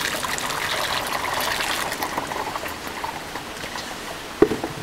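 Pottery glaze being ladled into a sieve over a bucket, a steady close liquid trickle and pour with one brief knock near the end.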